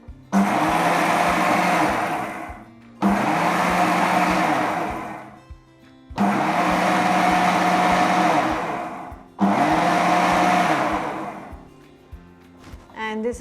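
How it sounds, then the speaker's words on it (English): A blender grinds soaked rice with walnut milk into a coarse paste, running in four loud, steady whirring bursts of a few seconds each, separated by brief pauses. "Now blend this into a coarse paste."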